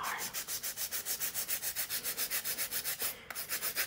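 Acrylic nails are ground down with a coarse 3X nail drill bit, giving rapid, even, rhythmic rasping strokes about six per second, close and steady, briefly pausing near the end, with no talking.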